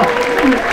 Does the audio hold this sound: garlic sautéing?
no